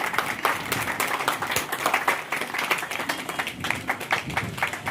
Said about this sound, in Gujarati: જોરદાર તાળીઓ બતાવો